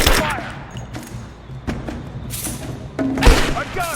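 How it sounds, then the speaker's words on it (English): Gunfire in the video game Rise of the Tomb Raider: sharp, close bursts of shots and thuds at irregular intervals, mixed with a voice calling out. "I'm taking fire!"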